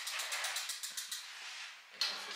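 A Ruff Cycles Lil'Buddy electric bike rolls through a workshop, giving a soft, rapid ticking freewheel clatter with a faint mechanical hiss, fairly quiet and without talk.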